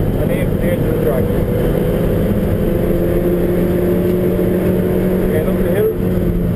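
A Mazda 3 engine drones steadily as the car accelerates around the Mondello Park race track in Ireland. The loud, sustained engine note holds close and constant throughout, with someone talking over it.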